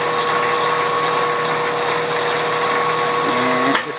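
A metal lathe runs steadily while cutting a thread, a loud continuous motor hum and whine with a faint rising tone and a brief clunk near the end.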